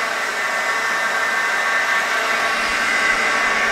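A 37-inch AEM wet type belt grinder, model 401-37-HDMW, with a paper filter coolant system runs with a steady, loud broadband whir and hiss that holds constant throughout.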